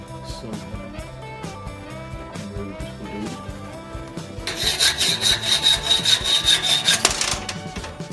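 A saw cuts threaded bolts to length for an oak cradle. Background music plays throughout, and a harsh, steady rasping stroke rises loudly for about two and a half seconds before it stops.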